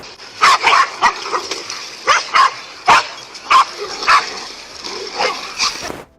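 Several dogs bark and yip in quick irregular bursts while attacking a king cobra, sharp close barks spaced through the clip with short whimpering gaps between them.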